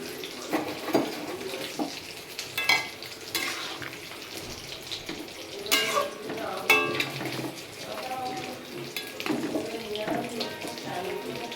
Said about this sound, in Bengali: ঝোলটা ফুটে গেছে, এবার আমি শাকগুলো দিয়ে দেবো। তেলা কচু শাক।